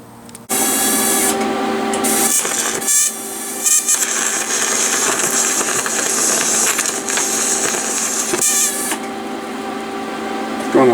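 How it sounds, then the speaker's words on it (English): A power grinder runs loudly and steadily for nearly the whole stretch, shaping a metal part of a homemade functional Final Fantasy VIII gunblade, with a high whine, brief dips in pitch as it bites, and no talk. "I'll grind it down."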